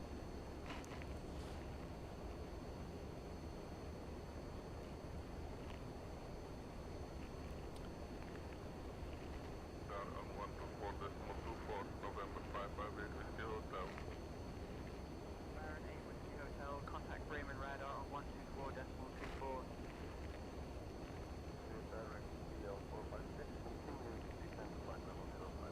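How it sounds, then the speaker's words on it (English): Simulated MD-80 airliner climbing toward cruise altitude in X-Plane 12, a steady, fairly faint cabin-level engine drone and airflow rumble that holds constant throughout, with no voices. "this MD-80 climbs really good."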